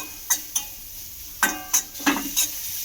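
Onion frying gently with spices in a pan over low heat, a quiet sizzle punctuated by six sharp spatula scrapes and clacks as it is stirred.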